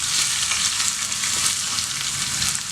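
Crushed garlic dropped into hot oil for tempering a Tamil green gram greens kulambu sizzles in a dense, steady hiss, close and continuous, with no talking.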